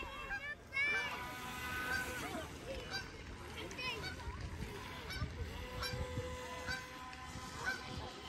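Ducks and geese honk and quack across open water while a boat rumbles past steadily underneath, with voices murmuring in the background.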